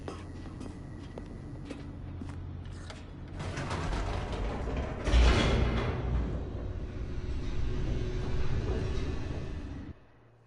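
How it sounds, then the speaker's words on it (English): An elevator racing downward in The Stanley Parable video game: a sustained mechanical creaking and grinding with rattling gear-like clatter, swelling louder midway and cutting off abruptly near the end. "The elevator raced downward, plummeting towards an unknown fate."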